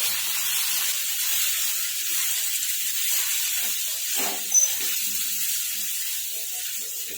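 Turmeric, red chili powder and chopped vegetables hit a hot pan for a poha and semolina snack, giving a steady, close sizzling hiss that runs unbroken, with one brief louder spit partway through.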